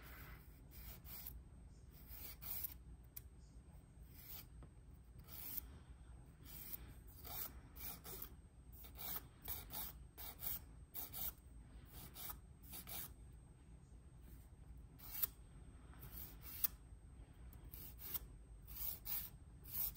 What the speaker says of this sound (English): I got some on my skin, so I'm filing that off